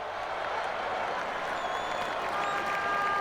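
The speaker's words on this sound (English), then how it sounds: "these three guys deserve the applause of everyone under the podium" Steady crowd applause in a motorcycle racing video game podium scene fills the whole stretch, a dense wash of clapping with faint cheering, continuous and moderately loud.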